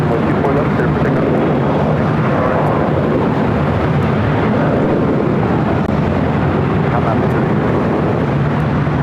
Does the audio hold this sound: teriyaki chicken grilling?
no